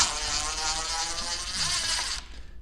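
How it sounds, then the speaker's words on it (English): A DeWalt DCF887 XR cordless impact driver running in reverse to back out screws gives a close, steady buzzing whir for about two seconds before cutting off. "let me show you guys how this drill handles removing some screws"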